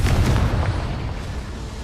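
A Confringo fire spell bursts in the video game Hogwarts Legacy, a loud, dense, rumbling blast that fades steadily over about two seconds, with no speech.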